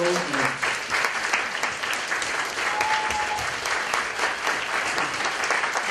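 A crowd of people at a police gathering claps steadily in a dense, sustained round of applause, with faint voices mixed in.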